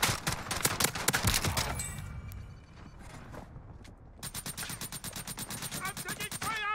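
Gunfire in the battle royale video game Rebirth Island, rapid automatic bursts up close, then a quieter stretch with scattered mechanical clicks, then another sustained rattling burst.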